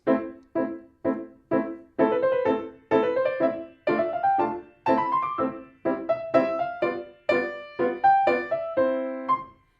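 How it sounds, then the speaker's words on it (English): Burgmüller's Arabesque is played on solo piano, with quick detached chords at first and then running lines, clear and close, no voices. "Another piece at level 4 would be the Bergmüller Arabesque."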